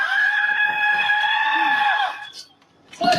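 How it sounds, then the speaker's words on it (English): A woman's long, piercing scream echoes in body-camera footage. It is loud and sustained for about two seconds, then fades into a short lull before another burst of noise. "her scream echoing"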